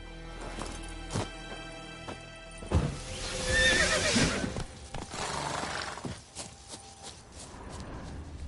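Roach, a horse in The Witcher 3 video game, whinnies loudly in the middle, followed by hoof clip-clops and a crashing, shattering clatter, with scattered hoof thuds before and after.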